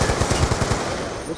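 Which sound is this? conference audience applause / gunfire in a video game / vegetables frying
gunfire in a video game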